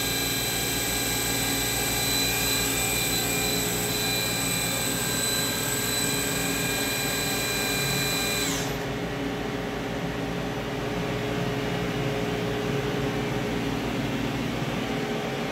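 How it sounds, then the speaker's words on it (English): Doosan Puma 3100LY CNC lathe live milling at 3000 RPM, a loud steady machine whine and hum with high-pitched tones that cut out partway through while the broadband drone continues. "Three thousand RPM live milling."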